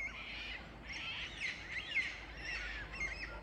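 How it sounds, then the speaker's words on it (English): Birds sing and chirp steadily in a back yard cottage garden, a busy layered chorus of bright trills and tweets over a low outdoor hum, with no voices. "Beautiful, beautiful birds, and I love hearing their sound."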